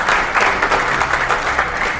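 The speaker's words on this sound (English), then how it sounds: "So please give them a big round of applause." An audience at a Cayman Airways 40-year Tampa celebration claps in a sustained, dense round of applause, loud and steady for the whole stretch, with no speech over it.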